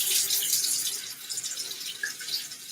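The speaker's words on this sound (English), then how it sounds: "Wonder if I run them under cold water," Cold tap water runs steadily into a sink as eggs are rinsed under it, a loud continuous hiss and splash close to the mic, with no talking.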